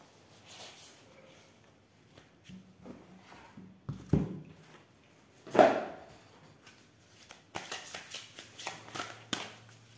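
Oracle cards are shuffled by hand before one is drawn, giving soft, scattered riffling and slapping sounds with a few louder taps, close and quiet, with no talking.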